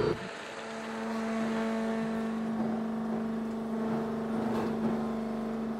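A tractor engine runs steadily at close range, a constant droning hum with a slight swell toward the end, heard alone without talk.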